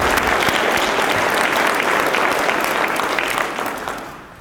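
A conference audience gives a full round of applause for sponsors, dense steady clapping that fades out at the end.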